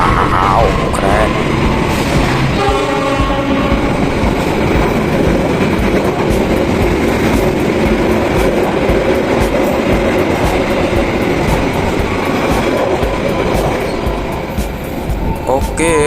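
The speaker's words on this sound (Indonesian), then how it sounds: "Itu dia kereta eksekutifnya, kencang sekali." An executive-class express passenger train rushes past at speed, a loud continuous roar with rattling wheels throughout, while a voice talks over the noise.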